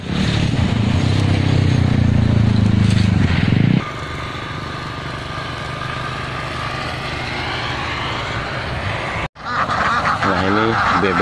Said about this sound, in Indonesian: Bebeknya di tengah sawah banyak banget